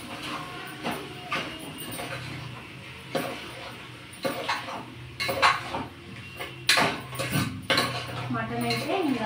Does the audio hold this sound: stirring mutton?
yes